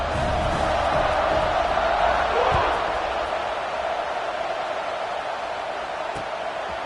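A stadium crowd roars steadily throughout a College Football 26 video game, with a commentator talking over the cheering and a couple of brief thuds.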